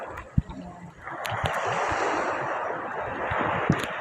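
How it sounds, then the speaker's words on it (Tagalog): Big sea waves surge and roll in rough water near boats in a provincial coastal setting, a broad rushing wash rising after a few thumps and holding loud and close, with wind buffeting the microphone. "Ayan, ang laki ng alon."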